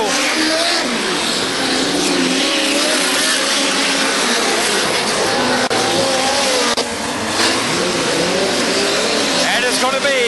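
Micro sprint race cars on the final lap of a dirt-track race at Belle Clair Speedway, a dense, loud, continuous roar of engines with screaming high revs, crowd-like wash underneath and an announcer talking over it.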